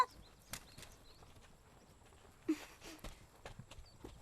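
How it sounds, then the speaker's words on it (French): A horse pulling a cart clip-clops along at a steady walking pace, quiet and fairly distant, with a brief louder hoof strike and a faint background hiss. "Allez, monte dans la charrette, tu m'entends?"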